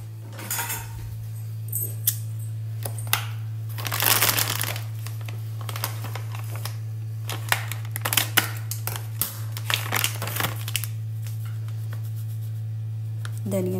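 A spice packet for a dahi aloo recipe is cut open with scissors and handled, giving crisp crinkling and snipping bursts over a steady low hum, close and fairly loud, with a voice talking in places.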